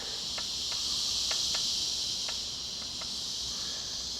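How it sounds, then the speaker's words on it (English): Cicadas drone in a loud, unbroken high buzz, with a few short sharp clicks or chirps popping out over the steady hum outdoors. "That's right, cicadas."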